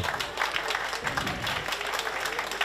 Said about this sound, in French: je vous demande d'applaudir les élèves du CFA de Sète